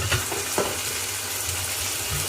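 Spice paste for loita dried-fish bhuna sizzles and fries in a pan while being gently stirred, a steady close crackle with soft scraping strokes and no voices.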